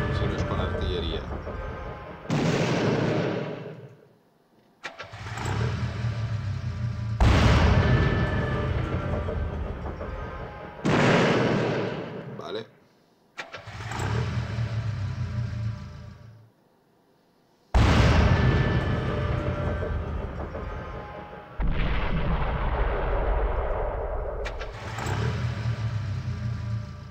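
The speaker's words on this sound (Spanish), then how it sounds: "último tiro de la artillería" Artillery fire in the video game Epic 40000 Final Liberation, a series of heavy booming blasts that each roll out and decay, several in sequence separated by brief gaps, loud and close, with some talking in between.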